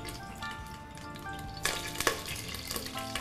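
Cumin seeds frying in ghee in a cooker pot give a steady crackling sizzle, close and moderately quiet, with a few sharper spitting bursts partway through and no talk.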